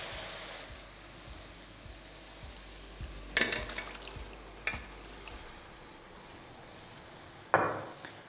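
Chicken liver sizzles faintly in a ginger-garlic masala in a pan, a soft steady hiss under a few sharp spoon scrapes and clinks, with a rhythmic low tapping throughout.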